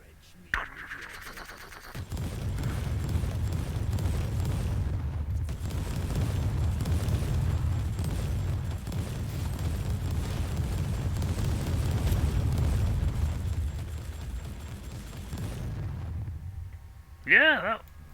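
Heavy weapon fire and explosions from a live-streamed shooter game roll on as a continuous, loud low-end rumble for about fifteen seconds, with a sharp burst near the start and another near the end.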